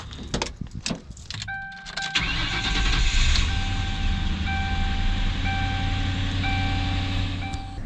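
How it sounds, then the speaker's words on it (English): A compressed-natural-gas Ford Crown Victoria starts with a cranking burst after a few clicks, then settles into a steady close engine run, while a repeating warning chime sounds over it. "I'm gonna show you guys what a CNG Crown Vic sounds like."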